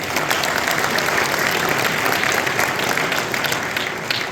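A large audience at an evening event with UFC lightweight champion Khabib Nurmagomedov gives a round of applause, dense, loud and continuous clapping filling the hall throughout.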